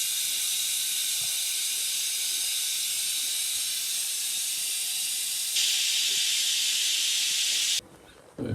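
Steam hisses loudly and continuously from a pressure cooker valve as the pressure is released while making beef stew. The jet grows stronger partway through, then cuts off sharply near the end.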